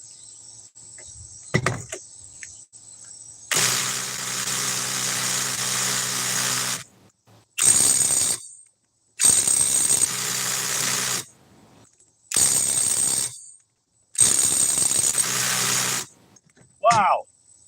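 A Ridgid power tool runs in five bursts of a few seconds each, loud and close, with short silences between them; the motor whines steadily while it runs, and a brief squeak closes the sequence.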